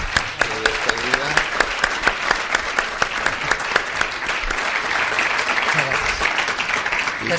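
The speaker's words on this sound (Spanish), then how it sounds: "Yo creo que le vamos a dar un fuerte aplauso a la ministra" An audience at a business breakfast gives the departing minister a loud, sustained round of applause, with dense clapping filling the room and a voice speaking underneath partway through.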